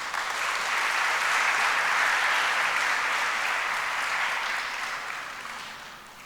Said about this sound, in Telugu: విశ్వాసులందరూ కూడా చప్పట్లతో మిమ్మల్ని అభినందించారు